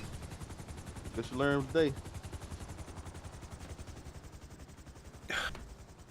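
Rapid gunfire from the video game GTA 5 roleplay, with a steady run of repeated shots through the whole stretch while a person talks briefly over it.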